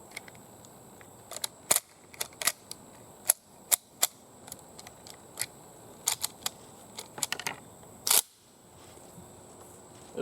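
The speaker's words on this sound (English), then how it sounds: "Alright, we're going to load up another 6 rounds." Six rounds being loaded into a Swiss K11 rifle: a series of sharp, close metallic clicks and snaps at irregular intervals against a quiet background, with a louder clack near the end.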